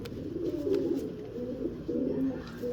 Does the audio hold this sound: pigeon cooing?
yes